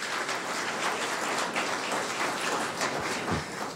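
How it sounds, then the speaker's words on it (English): Scattered applause from an audience at a cabinet ministers' swearing-in ceremony, a steady, fairly quiet wash of clapping lasting a few seconds with no voices over it. "We're going to give all of those, everyone, inside and outside, a thunderous round of applause."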